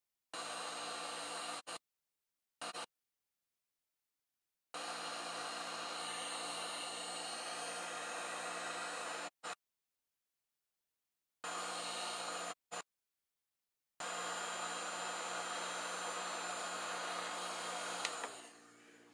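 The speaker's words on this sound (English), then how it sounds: "Don't want to leave a heat gun on resin too long, and it will make it hot, and it could remelt a little bit" A heat gun on a low setting blows over resin eyes, giving a steady broadband whoosh in several bursts of a few seconds each, separated by silent gaps, fairly close and with no voices.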